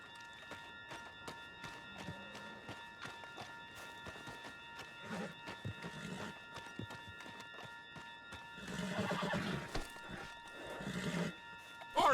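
A horse in the video game Red Dead Redemption 2 gallops with steady clip-clop hoofbeats, moderately close, as faint voices and game ambience sit underneath.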